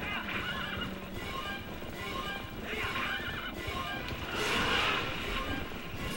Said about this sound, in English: Stupid horses.